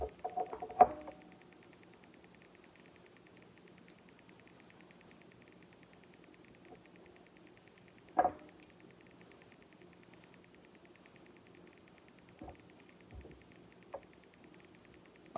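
A homemade anti-bark device set to level 1 emits a steady high-pitched warbling tone that starts a few seconds in and runs continuously to the end, with a few faint clicks and handling knocks underneath.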